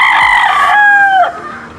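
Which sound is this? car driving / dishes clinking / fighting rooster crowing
fighting rooster crowing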